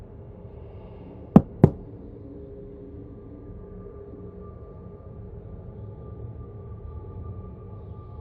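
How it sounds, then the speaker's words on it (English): Two quick, sharp knocks on a door in the video game Life is Strange: True Colors ring out close and loud, then give way to a quiet, faintly humming room. "Knock, knock."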